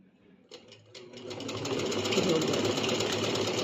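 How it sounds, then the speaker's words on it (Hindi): A sewing machine running a basting stitch along a salwar belt starts after a short pause and settles into a steady, close mechanical whirr that holds to the end. "आपने बास्टिंग स्टिच दे देना है इसके ऊपर मशीन से"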